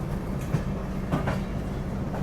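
The Jammu Mail passenger train rumbles along the rails near Kanpur, heard from on board as a loud, continuous roar with faint rhythmic wheel clacks and no voices.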